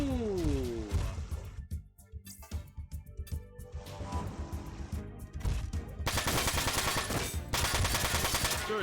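Sniper and weapon fire in the mech game Front Mission 4, heavy booming shots and rapid bursts that build into sustained loud firing, with music and game effects underneath.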